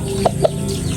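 Two short clucks from a chicken, close by, over a steady low background hum.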